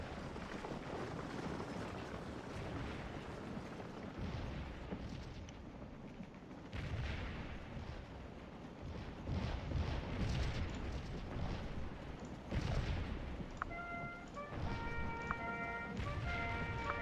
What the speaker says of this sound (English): I'd love to just saturate this area with cannon fire for a while.